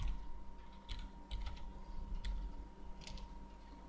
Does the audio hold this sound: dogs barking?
no